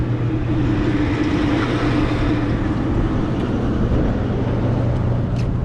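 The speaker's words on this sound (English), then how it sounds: "Mike's playing with the exhaust fan." Rooftop HVAC unit exhaust fan running steadily, a loud continuous droning hum with a low tonal whine and broadband airy rush, unchanging throughout.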